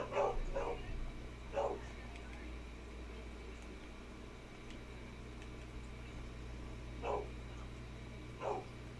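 Puppies barking in the Minecraft video game, a handful of sharp yips spaced apart across a low steady hum, moderately close and with no one talking.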